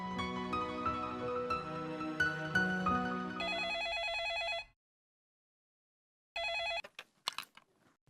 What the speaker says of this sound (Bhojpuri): जाके देखा केकर फोन बा